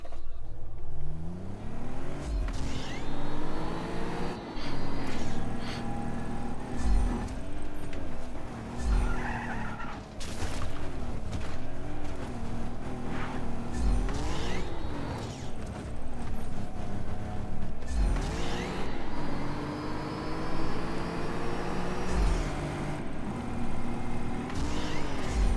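Car engine in the Just Cause 3 video game, roaring and revving continuously at high speed, with rising gear-shift sweeps, occasional tire skids and thumps, loud and close throughout.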